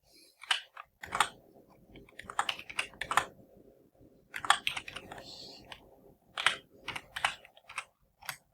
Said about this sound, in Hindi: टाइप करिए इसका GST नंबर